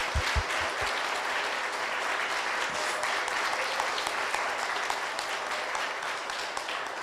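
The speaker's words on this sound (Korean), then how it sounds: "이쯤에서 이 디자이너 이광재에게 큰 박수 한번 쳐주셔야 되지 않겠습니까?" A Korean book concert audience in Wonju claps steadily for several seconds, loud and sustained, with a few sharp claps standing out near the start.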